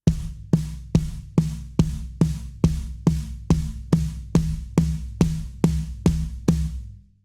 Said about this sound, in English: So instead of placing the right hand on the ride, you can place it on the floor tom